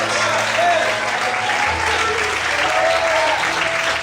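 A church congregation applauding in worship, steady sustained clapping from many people, with faint voices and a low tone underneath.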